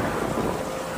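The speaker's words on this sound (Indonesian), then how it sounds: "Petir sesekali menyambar," Heavy rain pours steadily with a low thunder rumble beneath it, a brief dense wash of storm noise with no voices.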